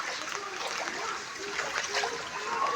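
Strong floodwater current rushing through a flooded residential neighborhood after heavy rain, a steady broadband wash of splashing, churning water holding at an even level throughout, close by and without any talk.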